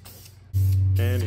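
Spray gun hissing as Wrinkle Plus black wrinkle-finish paint is laid onto valve covers in a final coat; a low hum precedes a loud, steady continuous spray burst lasting to the end.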